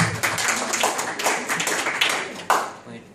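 Audience at a sharing event gives a short burst of hand clapping, uneven claps close by, mixed with a person talking over them.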